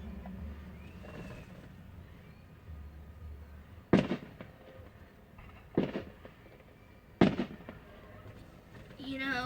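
Fireworks display at the Wayne County Fairgrounds, three sharp booming bursts spaced a couple of seconds apart over a low crowd murmur, with people talking nearby.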